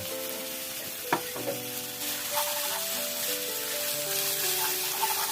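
Macaroni and minced pork stir-fried in a pan, with baby corn and shiitake mushrooms, give a steady broadband sizzle throughout and a couple of sharp scrapes and knocks from the stirring.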